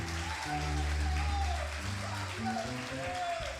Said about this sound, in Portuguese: Dê um forte aplauso